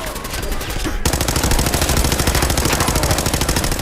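Automatic weapon fire in the video game Fallout 4: a loud, rapid, evenly spaced burst of shots hammers on continuously, with a brief change in tone about a second in.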